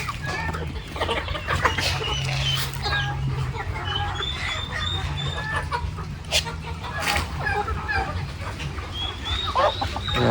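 Chickens and turkeys cluck repeatedly on a gamefowl farm, with scattered bird calls and a low steady hum underneath, a busy farmyard chorus throughout.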